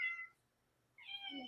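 A cat meows twice, short and fairly faint, with a quiet gap between the two calls.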